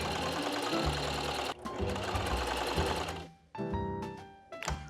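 A sewing machine runs test rows of shirring stitches, a close, fast mechanical clatter in long bursts broken by short pauses, with a brief stop and restart near the end.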